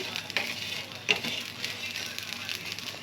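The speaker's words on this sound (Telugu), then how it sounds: "ఇదే ప్యాన్లోనే ఆయిల్ వేసుకుందాము ఆయిల్ వేసుకొని మళ్ళీ వేయించుకుందాం అన్నీ" Food refrying in fresh oil in a pan gives a soft, even sizzle with small crackles and a few sharper pops, heard close and fairly quiet over a few seconds.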